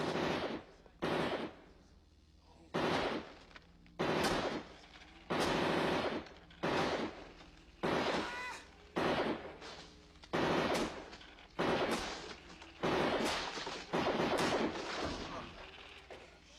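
Bursts of heavy automatic gunfire from RoboCop's signature gun in the video game RoboCop: Rogue City, a dozen loud, repeated volleys with brief gaps between them, up close and dominating the mix.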